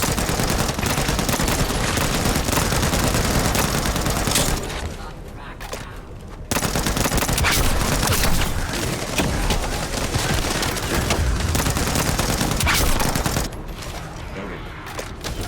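Dense, continuous gunfire in the shooter game The First Descendant, rapid bursts of shots filling the whole stretch, with only brief dips and a voice faintly present underneath.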